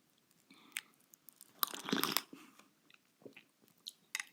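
Someone eats sour shrimp instant ramen soup up close, with soft slurps, bites and a brief louder burst of chewing and sipping in the middle, otherwise quiet.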